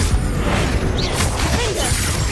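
Bombarda blast spell in the Hogwarts Legacy video game, a loud crashing burst with shattering debris and whooshing magical effects mixed over busy combat noise.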